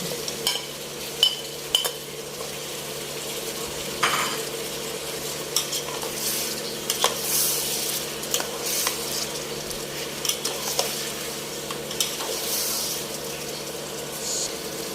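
Shrimp and bacon fry in a pan with a continuous close sizzle, broken by regular spatula stirs and light clinks of metal throughout.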